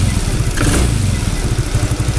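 A Suzuki Nex II scooter engine fitted with an NGK Platinum spark plug revs up and idles nearby, a loud, steady, pulsing drone with slight rises in pitch.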